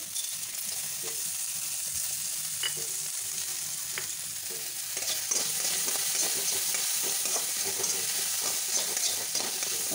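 Chana dal, urad dal and curry leaves frying in hot oil: a bright, continuous sizzle with soft stirring scrapes and light taps, steady and close, without any voices.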